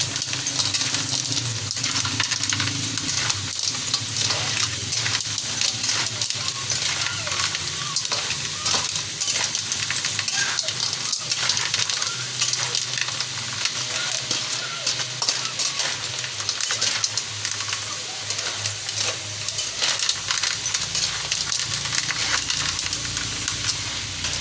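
A sautéed seasoning mix fries in a pan during home cooking, giving a continuous dense sizzle and hiss with frequent metallic scrapes and clinks from stirring.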